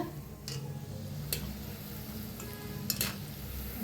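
Shankarpali dough pieces fry in hot oil with a soft, continuous sizzle, punctuated by a few sharp ticks and clinks from utensils against the pan.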